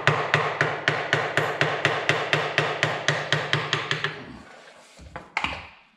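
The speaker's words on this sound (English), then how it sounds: "we'll see if we can't get this tapped loose here" Hammer tapping the power lift pump on an old John Deere B tractor to knock it loose: about sixteen sharp, evenly spaced metallic blows, loud and close, then a short pause and a couple of scrapes.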